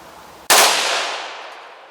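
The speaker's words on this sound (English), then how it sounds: "So we're going to shoot this gun and see how I can get it sighted in." A single loud shot from a Diamondback DB15 rifle chambered in .300 AAC, fired outdoors: a sharp close crack followed by a long decaying echo, with no voices.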